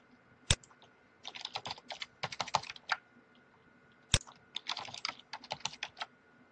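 Someone types an admin password on a computer keyboard: quick, crisp key clicks come in short bursts with brief pauses, close and clear in a quiet room.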